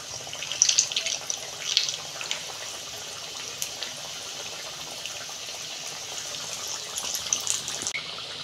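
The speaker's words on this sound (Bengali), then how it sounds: "তেল গরম হয়ে গেছে, বিস্কুটগুলো ভেজে নেব।" Biscuits fry in hot oil in a karahi over a low gas flame, giving a steady soft hiss and crackle with a few brighter pops early on and near the end, fairly faint and with no voices.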